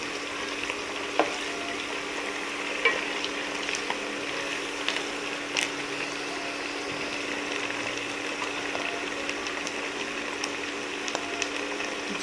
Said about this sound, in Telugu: ఆనియన్ వేగిన తర్వాత కొంచెం కొత్తిమీర, కొంచెం కరివేపాకు వేసుకొని మంచిగా కలుపుకున్నాం